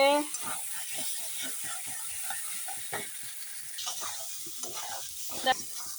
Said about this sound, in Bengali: একই সঙ্গে এখন আলুগুলো দিয়ে একসঙ্গে কষিয়ে নেব দেখো খুব ভালো করে আমি কষিয়ে নিচ্ছি